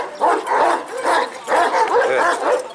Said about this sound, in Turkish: Bu köpekler genelde aynı soydalar zaten.